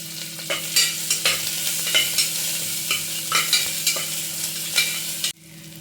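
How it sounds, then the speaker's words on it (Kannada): Onions and curry leaves sizzle in a hot pan while a spoon stirs and scrapes in a steady rhythm about twice a second. The frying is close and continuous, then cuts off sharply near the end. No one speaks. "ಈರುಳ್ಳಿ, ಕರಿಬೇವಿನ ಸೊಪ್ಪು ಹಾಕಿ ಸ್ವಲ್ಪ ಫ್ರೈ ಮಾಡ್ಕೊಳ್ಳೋಣ."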